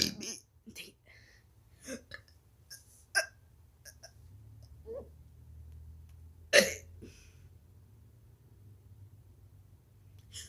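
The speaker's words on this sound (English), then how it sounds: "I used to have this trick where I go and then I'll burp like for 10 seconds." A person burps in a scattered series of short, throaty bursts over about ten seconds, mostly soft, with one much louder belch near the end.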